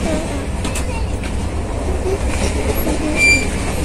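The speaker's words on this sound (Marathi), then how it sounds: "ही ट्रेन फक्त पुण्याला आणि डायरेक्ट मग सोलापूरला" Passenger train pulling into Pune station, a loud steady rumble of wheels on rails with faint squeals and brake hiss, heard up close from on board.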